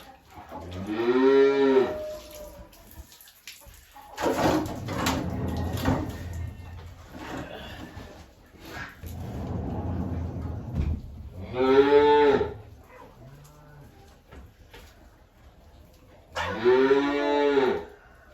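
A dairy calf moos loudly several times in long, drawn-out calls during morning milking, with quieter rustling and bumping between the cries.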